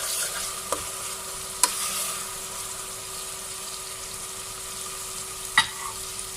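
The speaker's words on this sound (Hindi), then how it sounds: "इसको हल्का सा फ्राई करेंगे ताकि इसकी जो स्मेल होती है वो ख़त्म हो जाए।" Ingredients for aloo matar pulao lightly frying in a pan: a steady, quiet sizzling hiss runs throughout, broken by a few sharp clicks of a utensil against the pan.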